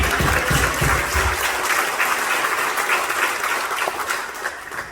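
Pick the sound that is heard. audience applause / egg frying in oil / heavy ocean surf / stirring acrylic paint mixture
audience applause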